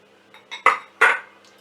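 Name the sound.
mixing flour, oats and caster sugar in a bowl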